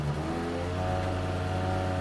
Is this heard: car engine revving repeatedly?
yes